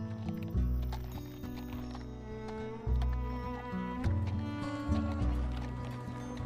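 Horse hooves clip-clop at a steady pace, moderately faint, under a sustained, droning musical score in a Wild West documentary about Billy the Kid.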